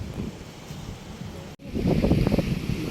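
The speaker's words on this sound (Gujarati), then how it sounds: "દરિયાના ઠંડા પવન." Cold sea wind at a coastal spot near boats, blustering against the microphone as a rough low roar, briefly cutting out and then returning stronger and gustier.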